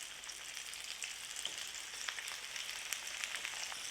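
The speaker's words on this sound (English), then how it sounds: "I'll immerse the floured fish ever so gently in hot oil" Floured slices of fish, two at a time, frying in a pot of hot oil, giving a steady dense sizzle with small pops and crackles throughout, close and alone without talk.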